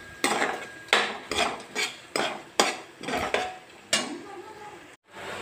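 Onion and fennel seeds sautéed in a pan, with a spatula scraping and clanking against the metal in a regular rhythm of loud strokes about every half second over a faint sizzle, no talking.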